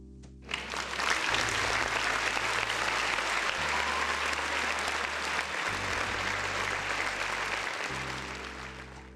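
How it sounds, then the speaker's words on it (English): Sustained applause from a crowd, steady and loud throughout with dense clapping, tapering slightly at the end. "round of applause for the folks in the chat"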